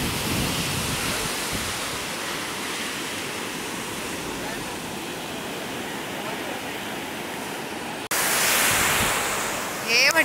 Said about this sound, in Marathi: सुंदर समुद्र, भरती आल्यामुळे भरपूर पाणी वरपर्यंत येतं